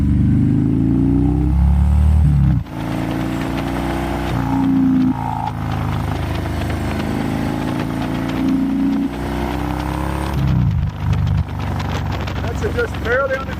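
Harley-Davidson Low Rider ST motorcycle ridden on light throttle, its engine a steady low rumble with slight pitch shifts and wind roar, someone talking over it throughout.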